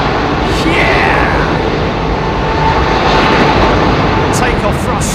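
Airliner jet engines at takeoff thrust at Heathrow, a loud, constant broadband roar heard from on board, with faint talk mixed under it.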